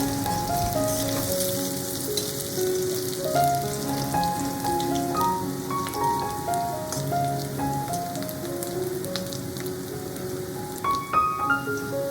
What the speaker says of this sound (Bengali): চলুন আলুগুলোকে খুব ভালো করে একটু ভেজে নিই